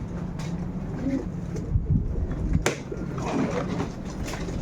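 Soft pigeon coos drift in and out over steady background noise, with a few faint knocks and clatters.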